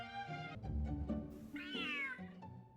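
A cat in the video game Genshin Impact meows several times, starting with a long harmonic wail, then shorter calls and a rising, drawn-out meow near the end, close and clear over faint game sounds.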